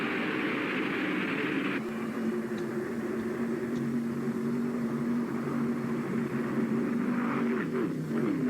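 Stock car engines roar at the 1974 World 600 at Charlotte, a steady, dense mechanical drone of many cars at once, heard at a distance with a shift in pitch partway through, no talking over it.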